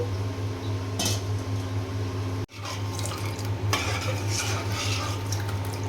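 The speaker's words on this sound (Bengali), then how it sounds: "চাউল ভেজে নেওয়া হয়ে গিয়েছে, আমি এখন দুধ দিয়ে দিলাম।" Milk going into a pan of fried rice while payesh cooks, with steady pouring and stirring clatter in a busy kitchen, a brief pause midway, then more utensil scraping and liquid noise.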